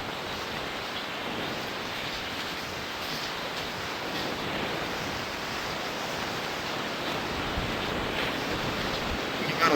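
Sea waves surge high against the Jaffna coast during a cyclone. A continuous, broad roar of surf and wind runs unbroken for the whole stretch, loud and near, with no voices.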